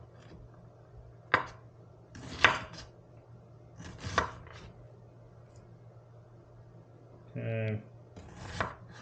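An onion is chopped with a knife on a board in a home kitchen, a handful of separate crisp thuds spaced a second or two apart, with a short hum and a brief spoken word.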